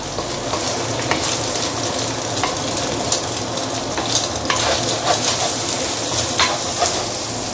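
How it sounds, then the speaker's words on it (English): Egg frying and stirred in a hot pan for fried rice with luncheon meat, a loud, dense sizzle with spatula scrapes and taps scattered throughout. "I'm going to put in the egg. And I'm going to ruin the egg."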